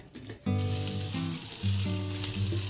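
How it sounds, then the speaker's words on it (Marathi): Onion and coconut roast in a little oil in a pan, a loud close sizzle that bursts up suddenly and holds steady, layered with a sustained tonal hum and faint stirring scrapes. "कांदा आणि खोबरं हे आता आपल्याला भाजून घ्यायचं आहे।"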